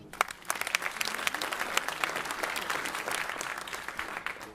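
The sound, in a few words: applause at a school gala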